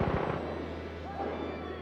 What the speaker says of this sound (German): ich glaube, der LKW ist gerade explodiert.